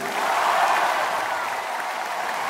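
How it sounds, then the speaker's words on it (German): At a concert in Dornbirn, a large audience claps on command, producing a steady wash of dense applause with a few cheers and no voice over it. "Klatschen!"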